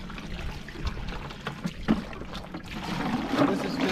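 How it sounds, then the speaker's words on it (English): Clams are rinsed in a bucket of salt water; water sloshes and trickles steadily, with splashing bursts building toward the end, over a low outdoor rumble. "I just try and rinse them good in this nice clean salt water."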